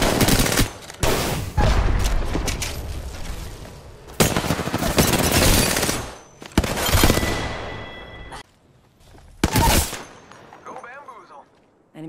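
Bursts of gunfire in the Apex Legends shooter on PS4, with repeated loud rapid volleys separated by brief gaps, some full-band and close, under occasional in-game voice callouts.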